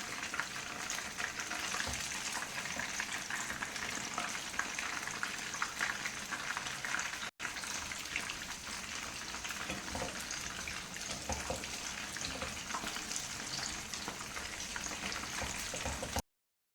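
Chicken frying in hot oil, a steady, dense sizzle and bubbling that runs continuously at close range with a brief dropout midway, no voices over it.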